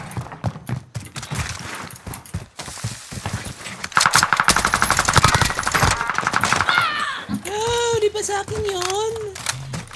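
Shooter game gunfire in Caldera: rapid machine-gun bursts rattle loudly through the middle of the clip, joined by tonal in-game effects and background voices, with heavy game ambience throughout.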